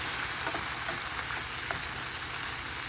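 Sardines frying in olive oil in a pan, a steady dense sizzle and crackle with a few sharper pops, close and continuous with no talking.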